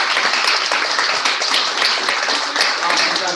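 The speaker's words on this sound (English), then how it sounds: "Give my big round of applause." A basic class claps together in a round of applause, a dense, steady burst of many hands lasting a few seconds with some voices mixed in.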